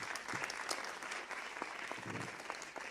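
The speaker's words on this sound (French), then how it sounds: "Applaudissez-vous, s'il vous plaît." Audience applause at a round-table discussion, a steady wash of many hands clapping throughout, moderately distant with a few sharper claps standing out.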